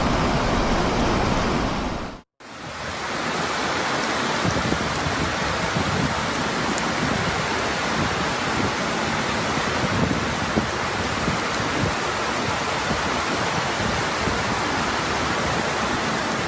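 Heavy rain pours steadily during flooding in West Africa, a dense, continuous hiss with a brief cut near the start, loud and unbroken, with no voices.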